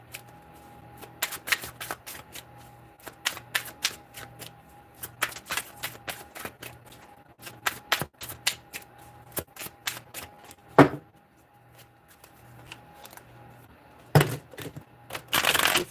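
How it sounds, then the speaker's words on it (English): Stiff tarot cards, chilled from being out in the cold, shuffled in repeated sharp riffling snaps and clacks, close and fairly quiet, with brief pauses and a couple of louder thumps. "These cards are a little stiff from being out in the cold."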